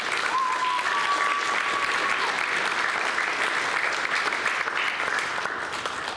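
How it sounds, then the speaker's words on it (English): A steady, dense round of applause from a school drama club audience, many hands clapping evenly at constant loudness, with a brief whistle early on and little talk. "can we give her a round of applause?"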